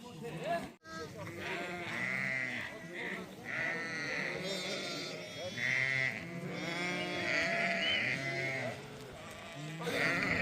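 Sheep bleat repeatedly and quite loudly, with several overlapping calls of varying pitch from a flock being shorn at a mountain pasture near the Tajik-Uzbek border, under steady background noise.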